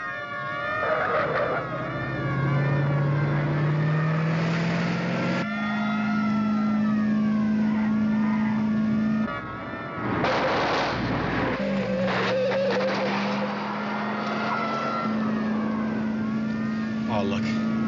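A car drives with its engine revving and shifting pitch through gear changes, loud and close, while people talk over it, in a 1970s McMillan & Wife television episode involving a highway patrol chase.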